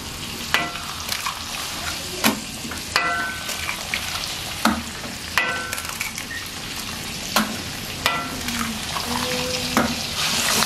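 Noodles frying in a pan, with steady sizzling broken by repeated sharp scrapes and clinks of a spatula stirring, close and regular.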